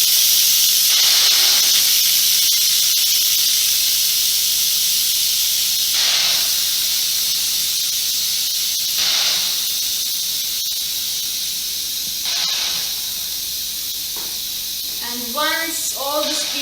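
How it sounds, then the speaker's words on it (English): An Instant Pot's quick-release valve vents steam in a loud, continuous hiss that holds steady for most of the stretch, with brief surges; a short burst of speech comes near the end. "I'm just going to press it and release the steam."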